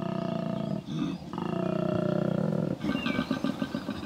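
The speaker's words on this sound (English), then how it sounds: "a koala's bellow can announce his presence up to half a mile away" A male koala bellowing, a loud, close, sustained low rumbling roar with harsh grating pulses, briefly breaking before continuing and then turning into choppier snorting bursts.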